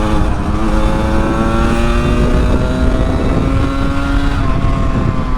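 A 1981 Yamaha RD350 LC two-stroke motorcycle revs high in its power band, giving a loud, continuous, raspy buzzing wail with strong harmonics and slight pitch wavering, heard close and alone.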